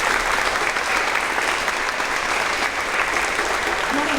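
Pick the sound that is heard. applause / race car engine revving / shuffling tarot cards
applause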